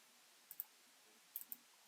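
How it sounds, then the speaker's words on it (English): A computer mouse right-clicked in embroidery software, giving a few faint, crisp clicks in short pairs and clusters over near silence. "So I'm going to right click and unlock that"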